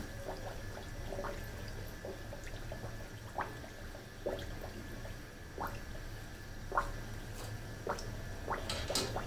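Potato puris frying two or three at a time in hot oil in a kadai, a soft continuous bubbling with scattered small pops and splutters, close and quiet, with no voices.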